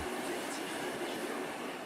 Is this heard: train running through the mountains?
yes